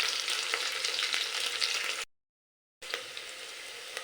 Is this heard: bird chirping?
no